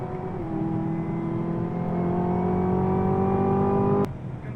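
Heard from the cabin, a Chevy Camaro engine holds a steady, climbing rev while drifting, then drops off sharply near the end.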